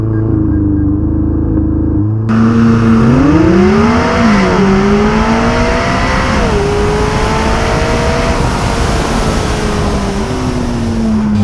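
A McLaren 600LT makes a launch-control start in Joshua Tree National Park. After a brief quiet pause the engine erupts into a loud, close roar that rises steadily through several gear changes.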